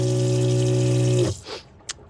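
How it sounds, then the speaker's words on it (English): Water runs from a collapsible faucet into a stainless steel sink in a Suburban camper conversion, flowing steadily for just over a second before it is shut off, followed by a brief small clatter. "the collapsible faucet, which we can just go ahead and turn on for water"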